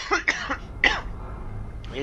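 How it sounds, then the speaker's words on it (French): A person with a lingering cough coughs several times in quick succession, near and fairly loud, with a throaty rasp, then goes quiet before a faint breath or throat sound at the end. "J'ai toujours cette toux qui me colle, qui veut pas partir."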